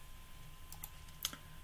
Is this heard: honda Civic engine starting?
no